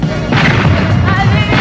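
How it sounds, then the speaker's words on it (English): Loud booming cannon blasts fire across a Takeshi's Castle game show obstacle course, a dense run of heavy, overlapping crashes packed into under two seconds. "Oh, avoiding the cannon fire."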